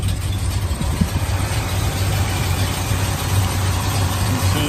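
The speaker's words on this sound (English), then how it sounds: "Let's take a listen to the engine." A muscle car's V8 engine idles steadily and loudly up close, a continuous low rumble with no one speaking.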